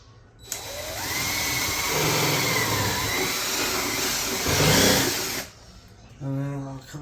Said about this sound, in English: I'm just gonna use a countersink here